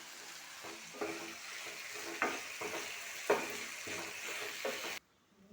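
Ivy gourd and onion stir-fry cooks quietly in a pan, a soft low sizzle broken by about five scraping stirs of a spoon, then the sound cuts off abruptly near the end.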